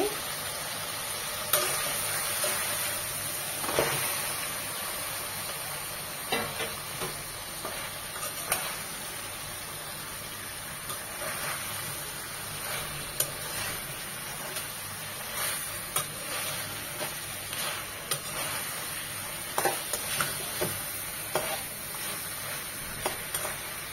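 Spiced fish head, rubbed with salt, turmeric and chili powder, sizzles steadily in a pan for muri ghonto while being stirred, with scattered scraping clicks from the spoon over a constant frying hiss.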